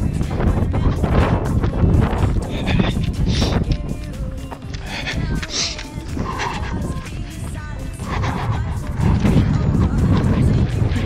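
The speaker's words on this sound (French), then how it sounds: "il y a du vent, mais alors, je vais vous dire que ça souffle" Strong gusty wind batters the microphone during a trail running race at Boulouparis, New Caledonia, a loud continuous rumbling roar that surges and eases, with faint voices and footsteps buried in the buffeting.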